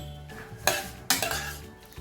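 Pressure cooker of cooked chickpeas being opened: metal lid clanks twice and scrapes against the pot over a quiet kitchen background, no talking.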